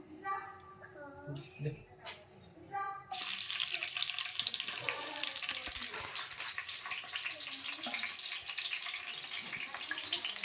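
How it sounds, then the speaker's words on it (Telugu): Cut green chillies drop into hot oil and set off a loud, steady sizzle that lasts to the end, after someone speaks briefly over a quiet kitchen. "ఆయిల్ అనేది వేడెక్కేసిందండి ఇప్పుడు మనం కట్ చేసి పెట్టుకున్న పచ్చిమిర్చి వేస్తున్నాను"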